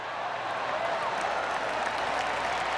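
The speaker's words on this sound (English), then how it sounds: "Did Rich just give us a golf clap?" Golf clap applause in the PGA Tour 2K23 game, a steady wash of crowd clapping at moderate distance that holds evenly for a few seconds without breaks.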